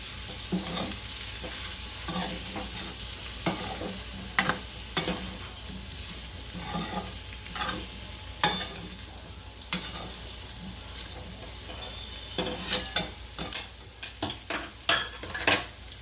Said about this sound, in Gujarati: આ સિંગદાણા ભૂકો નાખશું અને ભેળવી દઈશું